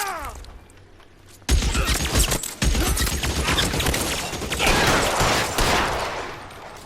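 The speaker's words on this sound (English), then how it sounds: "Try shooting someone with a gun of his own." Gunfire in the video game L.A. Noire, a loud burst of rapid shots erupting after a quieter opening, with mechanical clatter and impacts continuing as a dense, close firefight.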